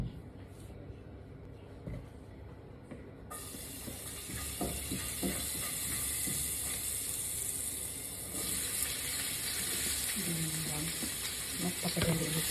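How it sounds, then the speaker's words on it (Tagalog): Garlic and onion hit hot oil in a pan, and a steady loud sizzle starts after a few seconds of quiet. Stirring scrapes sound through it and a voice speaks briefly. "Isusutay ko lang itong konting bawang at saka sibuyas"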